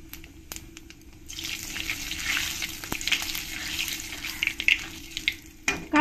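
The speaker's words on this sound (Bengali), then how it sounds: "এর মধ্যে দিয়ে দেবো 2টো শুকনো লঙ্কা, আর দিয়ে দেবো 1/2 চামচ কালো জিরে" Dried red chillies and nigella seeds hit hot mustard oil in a pan, bursting into a loud, crackling sizzle that rises sharply and keeps popping, with a few clinks and stirring knocks, no voices.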